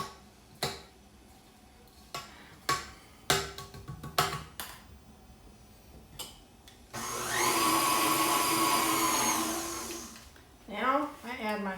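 An electric mixer whirs loudly through cheesecake batter for a few seconds, preceded by sharp clinks and knocks of a spatula scraping the bowl, with brief rattles afterward.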